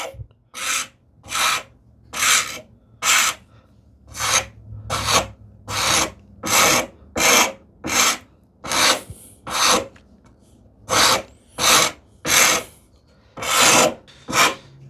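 Hand rasp rounding over the end of a wooden board, about fifteen steady back-and-forth rasping strokes in a regular rhythm, close and fairly loud with no talking.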